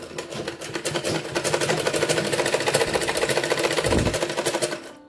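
Sewing machine stitching a shirt collar, a fast, even needle rattle with rhythmic clicking that holds steady for several seconds before running down at the end.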